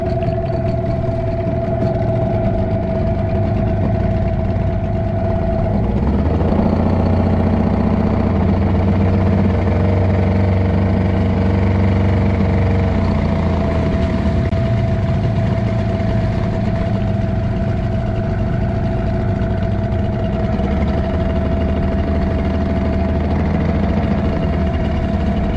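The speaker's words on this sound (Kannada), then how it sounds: "ಇಂಜಿನ್ ಆನ್ ಮಾಡಿದ್ದೇವೆ ನಾವೀಗ." A fishing boat's engine drones steadily while trolling at sea, a loud close idling rumble with vibration that shifts pitch slightly partway through and then settles into an even run.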